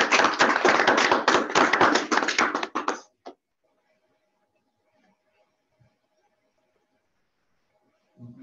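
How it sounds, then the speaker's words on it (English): An audience claps after an academic talk, giving about three seconds of loud, dense applause that stops abruptly, followed by near silence with a faint hum. "There's some people online also clapping, by the way."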